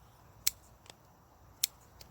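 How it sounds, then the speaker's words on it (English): Scissors snipping leaves off an elderberry cutting, two sharp close clips each followed by a softer snip, in an otherwise quiet setting. "So I'm just going to go ahead and cut off some of these leaves."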